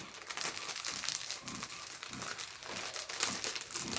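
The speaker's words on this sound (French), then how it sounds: "Je enlève les plis du plastique." A plastic sheet crinkled and crumpled by hand to work out its creases, giving continuous close crackling and rustling with bursts of sharper crunches, with no talk.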